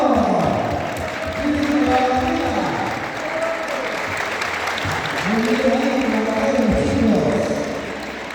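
Applause from a crowd at a school event for a physical education center, steady clapping lasting throughout and mixed with loud speech over a public address system and crowd noise.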